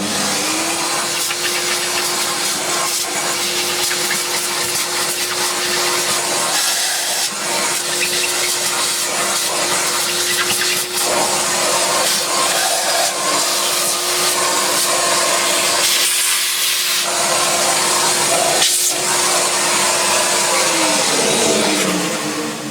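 A Dyson DC50 Small Ball vacuum cleaner with a crevice tool fitted runs steadily and loudly for the whole stretch, giving a sustained motor whine with a broad airy rush on top, then winding down at the very end.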